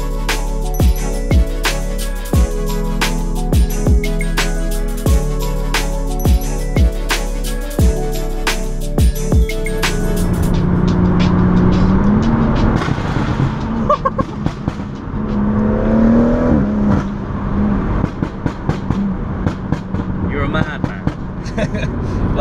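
A 460bhp BMW M140i Motech Edition accelerating, its exhaust letting out loud pops and bangs over a steady engine roar, heard from close by with people talking throughout.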